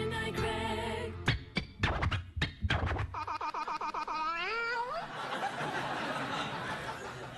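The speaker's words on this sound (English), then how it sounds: "What a lovely cat that is, Cole." A cat meowing on a late-night TV talk show set: a series of rising, drawn-out mews close to the microphone, mixed with studio laughter and chuckling.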